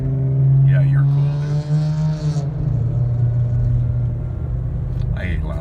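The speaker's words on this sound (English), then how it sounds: "I hate loud cars." A loud car passes close by, its engine droning steadily and rising briefly before fading as it goes, with no talk over it.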